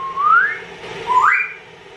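A bird gives two clear rising whistles, close and fairly loud, separated by a short pause.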